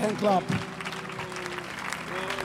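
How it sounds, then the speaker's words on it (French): Church congregation applauding during a worship service, a brief burst of claps rising over and under loud talk and singing-like voices that carry on throughout. "on acclame le Seigneur pour elle"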